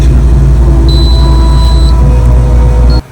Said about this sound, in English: And we got an alarm up here.